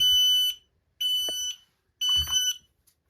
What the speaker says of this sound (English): a smoke detector whose battery is horrible